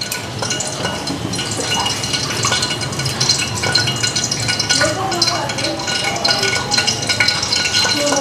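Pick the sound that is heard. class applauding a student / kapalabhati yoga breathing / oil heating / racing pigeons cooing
oil heating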